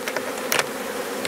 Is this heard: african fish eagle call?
no